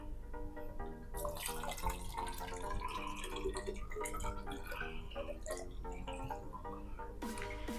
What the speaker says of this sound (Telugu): సో ఫ్రెండ్స్ రబ్బింగ్ ఆల్కహాల్ దీంట్లో పోద్దాం.